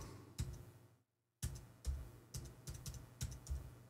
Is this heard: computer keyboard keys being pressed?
yes